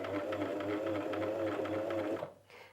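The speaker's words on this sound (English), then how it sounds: "that's going to sew quite a wide stitch at a medium length" A Janome 423S sewing machine runs a wide zigzag-style stitch at medium length, a steady, close, fast-ticking mechanical hum that continues evenly for over two seconds before cutting off abruptly.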